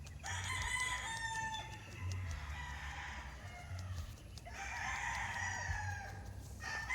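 Roosters crow in two long calls at a moderate distance amid clucking chickens on a rural lot, with no one talking.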